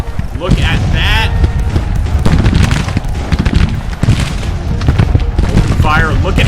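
Civil War musket fire and artillery booms in Grand Tactician battle, a dense crackling fusillade with thuds throughout, mixed with shouting voices.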